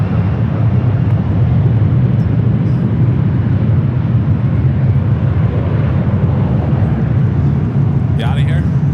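A Qantas jet takes off at LAX, its loud, sustained low engine rumble filling the whole stretch while a voice talks over it.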